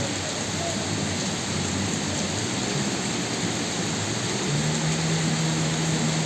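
Heavy rain pounds steadily on a flooded Mabini Street in a thick, close hiss, with a faint low hum rising near the end.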